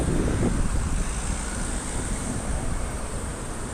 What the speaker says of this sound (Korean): 지금 비 안 오는데 바람 소리가 들리네.